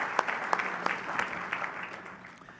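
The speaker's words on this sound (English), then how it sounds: "I would please offer a round of applause for all of these leaders" A keynote audience applauds association leaders, a steady crowd of hands clapping with several loud, distinct claps popping out near the front, gradually easing off toward the end.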